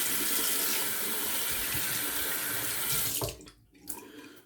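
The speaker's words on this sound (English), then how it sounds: "It just rinses off the blade so nice." Tap water runs steadily from a faucet into a sink to rinse shaving lather off a straight razor blade, loud and close, then stops abruptly near the end with a few faint splashes.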